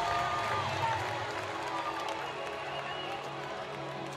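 Crowd cheering and applauding at a women's World Cup field hockey match between Australia and Japan, a broad distant roar from the stands that swells briefly and then settles into a steady background din.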